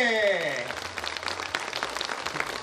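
Audience applause at a stage show for the Dofteana commune days celebration, a dense wash of clapping rising after a voice tails off and continuing steadily.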